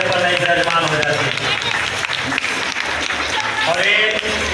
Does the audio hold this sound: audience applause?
yes